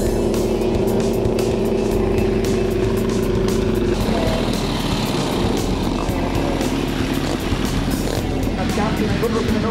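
Racing motorcycles warm up before their lap at a bike show, and a steady, loud roar of engines fills the whole stretch. Voices can be heard faintly underneath.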